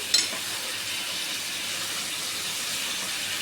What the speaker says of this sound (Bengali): এবার আমি এটাকে নেড়ে দিচ্ছি